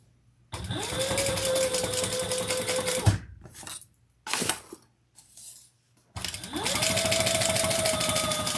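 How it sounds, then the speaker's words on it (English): Sewing machine stitching a vinyl Ellana bag, running in two long steady bursts with a short stop-start stutter and handling noises between them, close and loud. "let's sew that on"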